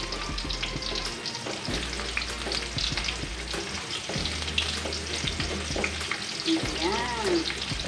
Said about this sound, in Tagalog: Halu-haluin until mag-brown yung ating garlic.